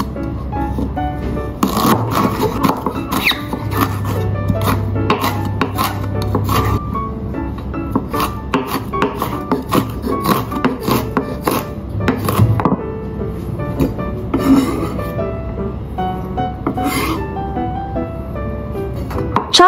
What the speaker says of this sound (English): Chopped ginger.